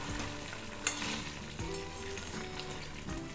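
Mutton fries in a pan while being stirred for kosha, a quiet but steady crackling sizzle with occasional soft scrapes and bumps of the spoon, and no one talking.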